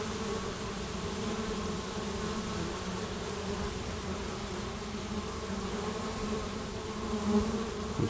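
A continuous, even buzz of honeybees crowding a hive entrance, some carrying full pollen sacs, a dense drone that holds steady throughout at close range with no voices.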